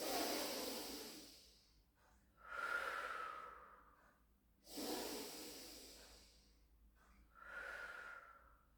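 Slow, deep breaths during a Pilates back-focused exercise flow, with two long hissing inhales or exhales, each followed by a softer breath, close and clear with no talking.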